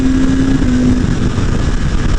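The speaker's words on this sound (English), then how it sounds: "I can actually hear the bike." A 2022 BMW S1000RR engine drones steadily while riding, a close continuous roar mixed with rushing wind, with no talking.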